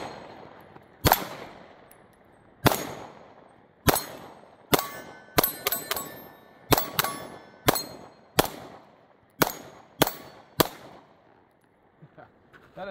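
A Taurus GX4 handgun fires at small steel targets outdoors, about fourteen sharp shots spaced unevenly, some in quick doubles, each crack followed by a ringing clang of struck steel that decays before the next.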